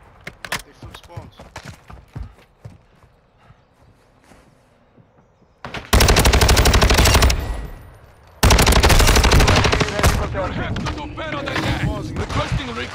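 Gunfire in Call of Duty: Modern Warfare II starts as scattered shots, then turns into two loud, sustained automatic bursts with clatter and impacts, while voices talk.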